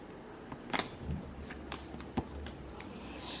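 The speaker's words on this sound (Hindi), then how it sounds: "last shuffle," Tarot cards being shuffled by hand, giving several quick, crisp riffling snaps spread over a few seconds, faint and close, with no voices.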